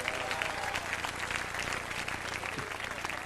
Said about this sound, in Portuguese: Aplauda ao Senhor com alegria nesta noite.